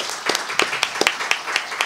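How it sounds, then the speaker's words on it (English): A small audience at a judicial candidate forum claps for the candidates, a short burst of applause with a few distinct louder hand claps standing out in an uneven rhythm over the softer patter. "let's give our candidates a round of applause for doing an excellent job"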